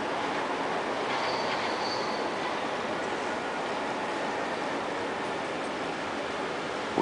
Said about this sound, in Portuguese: O trem é lá em cima o metrô. Tá aí, ó. Chegando aqui.